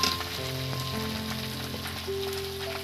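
Grated potato sizzles steadily in a hot pan while being cooked for an aloo paratha filling, a continuous close frying crackle with no talk over it.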